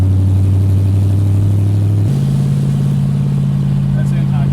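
A 1964 Ford Galaxie 500 V8 running through open headers, with a loud, deep rumbling idle that drops to a lower, steady throb partway through and stays heavy and close.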